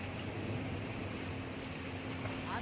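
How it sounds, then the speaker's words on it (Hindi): Heavy rain with strong winds falls outdoors in Lucknow, a dense, even patter hissing steadily throughout, with a faint low hum beneath and no voices. "तेज हवाओं के साथ जोरदार बारिश यहां पर हुई है।"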